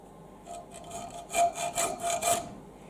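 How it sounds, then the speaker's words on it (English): A hacksaw cuts through a small metal part in about six quick back-and-forth strokes, with a close, rasping and rhythmic sound and no talk. "Sometimes the hacksaw is still the tool of choice."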